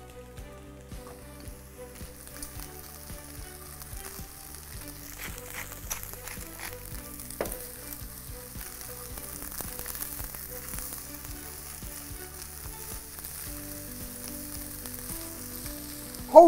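Carrots and rice sizzle steadily in a pot for Uzbek pilaf, a soft continuous fry with occasional stirring clatter and a sharper knock near the end.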